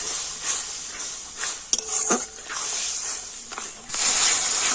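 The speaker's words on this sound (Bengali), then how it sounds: "সমস্ত মশলাগুলো খুব ভালো করে আমি কষে নেবো" Ground cumin, coriander and ginger paste sauté in a pan for a pumpkin and fish roe curry, giving a soft continuous sizzle and hiss with a few clinks of a spoon stirring.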